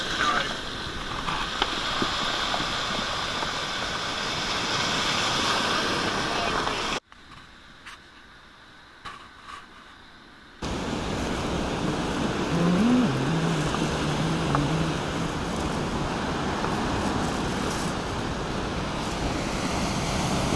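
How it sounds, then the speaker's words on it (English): Choppy sea waves crash and wash continuously along the rocky coast near Puerto de la Cruz, Tenerife, loud and close with wind buffeting, cutting out briefly midway before the roar resumes. "Very, very choppy waves."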